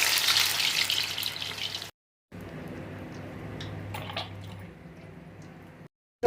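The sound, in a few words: black gram vada frying in oil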